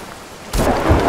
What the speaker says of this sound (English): Did I just get struck by lightning?